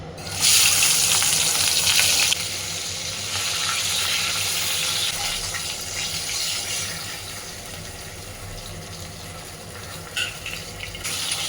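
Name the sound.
fish frying in a pan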